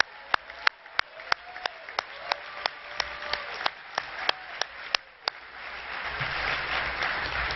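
Sharp, scattered claps at a state Democratic party convention hall build into fuller applause from the audience toward the end.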